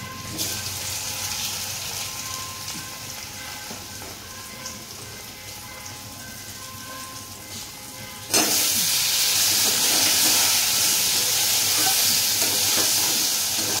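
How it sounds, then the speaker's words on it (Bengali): Potatoes and other vegetables fry in hot oil, a steady close sizzle that jumps to a louder, brighter hiss partway through as more goes into the pan, with no talking. "তো চলো এখানে এই তেলেই এবার আলু আর যেগুলো যেগুলো আছে সেগুলো ভেজে নিই"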